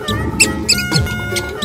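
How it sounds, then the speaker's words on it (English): Cartoon mouse in a children's animal transformation animation gives a few short, high-pitched squeaks at irregular intervals over a steady background of music and effects. "Mouse."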